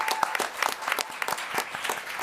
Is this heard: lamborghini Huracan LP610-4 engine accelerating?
no